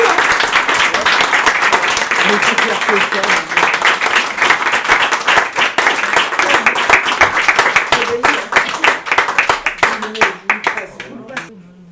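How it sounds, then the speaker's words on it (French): An audience claps at a festive poetry duel for the Saint Hervé celebration, loud and lively with distinct individual claps. The clapping thins and turns patchy near the end, and voices are heard among it. "On applaudit."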